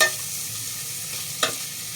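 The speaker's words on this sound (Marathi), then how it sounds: "मग आपण बाकीच्या भाज्या परतून घेणार आहोत" Tomatoes sautéing in a pan for spiced pea rice, a soft steady frying hiss with one brief utensil knock near the end.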